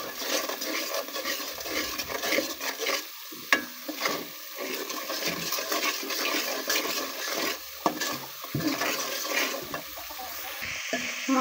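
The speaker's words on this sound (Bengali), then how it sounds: "মশলাটা কষানো হয়ে গেছে আমার" Spice masala frying and being stirred in a pan for a vegetarian bottle gourd dish, with a rough, uneven sizzle and bubbling, scraping stirs and an occasional sharp knock of a utensil.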